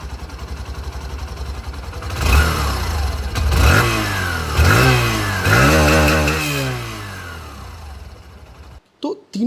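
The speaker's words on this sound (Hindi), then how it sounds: "अब मैं आप लोग को यहाँ पर ग्लैमर ओजी की जो साउंड है वो भी" Hero Glamour OG motorcycle engine idling close by, then revved in four or five rising throttle blips before settling and cutting off near the end.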